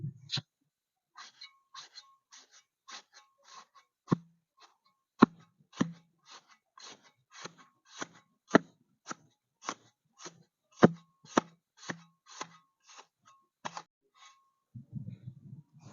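Shovel scraping through M-sand and cement being mixed for mortar, a steady run of short, sharp scrapes and taps at an uneven rhythm, close by and moderately loud, with no talk.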